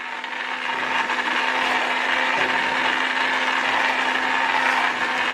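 A handheld stick blender purees a mushroom gravy for several seconds, a loud, even motor whine with rough churning texture, dipping briefly at the end.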